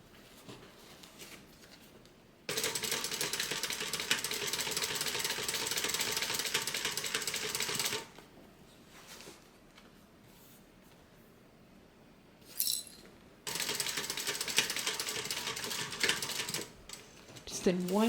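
A sewing machine stitches a tote bag in two sustained, steady runs of motor and needle clatter, each several seconds long, separated by a quieter pause with faint handling sounds.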